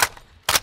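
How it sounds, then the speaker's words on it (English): A magazine swap in Call of Duty Modern Warfare 2 multiplayer: two crisp metallic clacks about half a second apart, loud and close, with only quiet background between them. "Switching mags!"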